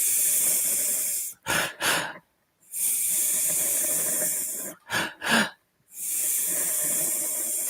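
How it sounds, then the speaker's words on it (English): Slow, steady inhalations through the nose during a guided meditation breathing exercise, each long airy hiss broken by short sniffing pauses, close and alone with no talking. "And breathing in."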